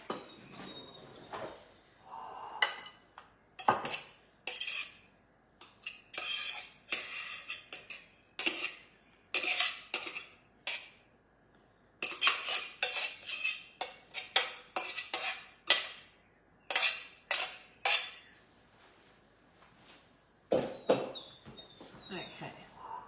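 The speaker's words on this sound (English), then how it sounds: "I'm going to spatula this in." A spatula scrapes cooked pasta salad ingredients into the bowl of a Magimix Cook Expert food processor, giving repeated short scraping and knocking strokes with brief quiet gaps between them.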